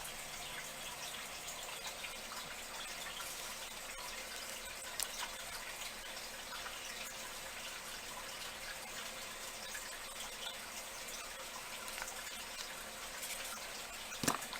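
Clear UV resin is poured into a mold as a steady, faint hiss of liquid. It runs alone for several seconds, with a couple of tiny clicks near the end.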